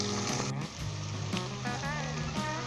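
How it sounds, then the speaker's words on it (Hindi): Chicken frying in oil with ginger and garlic for a Shinwari murgh karahi, a steady loud sizzle with a low tonal hum running underneath, no voices. "मैंने 5 मिनट अच्छे तरीके से इसे ऑयल के अंदर फ्राई कर लिया अदरक लहसुन डाल के"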